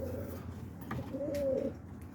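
Boston rippling roller pigeons coo softly in a loft, a low steady murmur of coos with one slightly louder rolling coo partway through, under a constant background hum.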